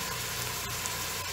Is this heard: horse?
no